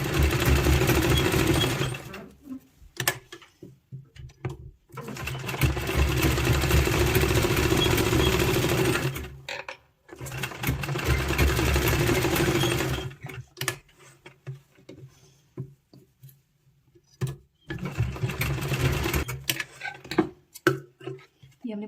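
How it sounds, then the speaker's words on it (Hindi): Sewing machine stitching the top part of a small child's party dress, running in several long bursts of steady mechanical whirring separated by short pauses. "सबसे पहले हम जो ये है टॉप पार्ट उसको स्टिच कर लेंगे इस तरह से"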